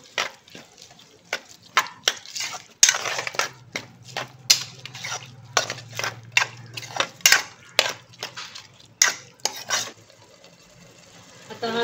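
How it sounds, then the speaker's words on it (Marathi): A spoon clinks and scrapes in a bowl as spices are stirred into two spoonfuls of yogurt, a run of sharp, irregular taps and clatters, close and fairly quiet. "आता हे सर्व आपण मसाले ह्या दहीमध्ये व्यवस्थित मिक्स करून घेऊ"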